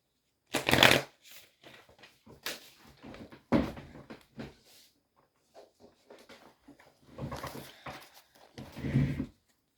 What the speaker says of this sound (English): I'm just going to get one card from this deck.